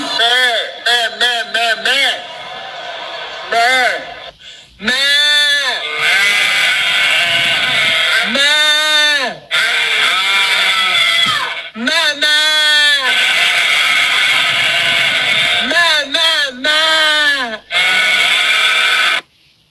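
A crowd at a political rally imitates sheep, with many voices bleating loudly in wavering, drawn-out 'baa' calls that come in repeated bursts with brief pauses between them.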